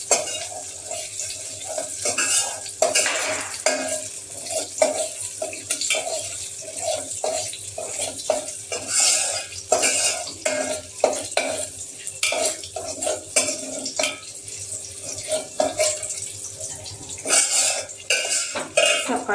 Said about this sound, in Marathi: याला लगेच थोडं हलवून हलवायचं पाहिजे आता जाळायचं थोडंसं रोस्ट होऊन द्यायचं